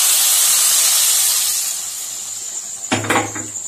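Hot tempering sizzles in a pan with a steady, loud hiss, then crackles and spits sharply as it is poured into a ginger, garlic and tamarind curry near the end.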